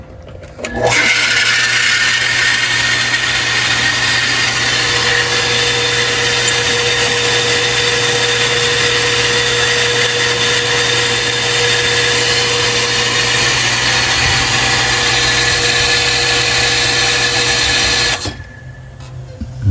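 An electric household water pump runs steadily, a loud, close, continuous motor whine and hum that starts abruptly, holds an even drone for about seventeen seconds, then cuts off.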